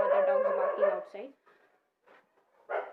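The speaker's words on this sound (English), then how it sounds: "Please excuse me for the dogs barking outside." Dogs outside: one howls and yips close by in a drawn-out wail, followed by a few fainter barks after brief pauses.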